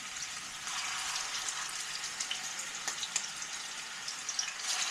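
Five hamburger steak patties fry in a pan on turned-down heat, giving a steady, soft sizzle with faint crackles and pops, close and alone without talk.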